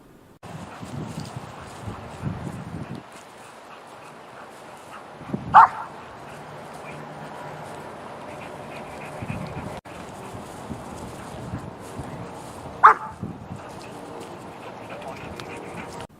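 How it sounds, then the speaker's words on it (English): Two short sharp barks from a German Shepherd puppy, spaced well apart, ring out over low murmuring voices and quiet room noise. "now I get one bark"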